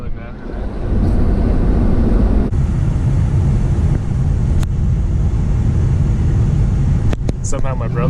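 A 1999 GMC Yukon with an LS 5.3 swap and new exhaust piping drones steadily and loudly from inside the cabin while driving, with wind noise throughout and a brief shift change midway.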